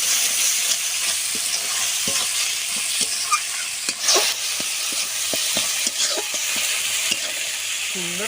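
Chilli powder, turmeric and salt sizzle and fry in a pan while a utensil stirs and scrapes through the spice mix in steady, close strokes, with a continuous frying hiss underneath and no talking.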